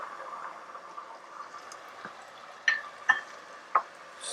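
Burger mix sautéing in a pan after Greek brandy is added, a soft steady sizzle under a few sharp scrapes of a spoon stirring it, close and moderately quiet.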